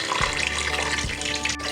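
Tap water pours steadily into a pressure cooker holding beef tendon, a close, continuous gushing splash with no talk.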